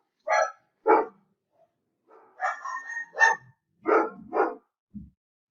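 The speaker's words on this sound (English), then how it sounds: "Some dogs in the background." Dogs bark in the background, several sharp barks in short bursts, then a brief low yip at the end, with no voices.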